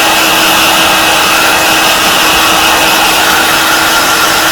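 A heat gun blows a steady, loud hot-air hiss and whine across a car hood lining on an HQ Holden Monaro coupe to shrink out wrinkles, running continuously with no breaks and no talk.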